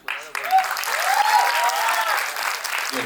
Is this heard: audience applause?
yes